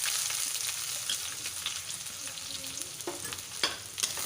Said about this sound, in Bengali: পেঁয়াজগুলো কিছুক্ষণের জন্য ভেজে নেব।